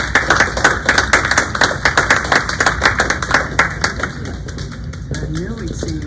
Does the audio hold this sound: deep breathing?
no